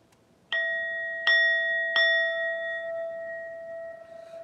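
Three bright bell dings strike in quick succession, each clear and close with a long, smooth ringing decay that fades into quiet.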